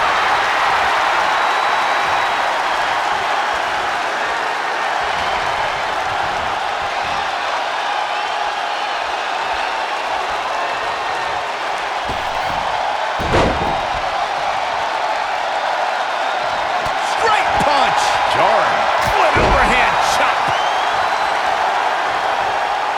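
Loud wrestling arena crowd from the WWE 2K20 video game, a dense steady roar lasting throughout, with sharper bursts of cheering and whoops partway through.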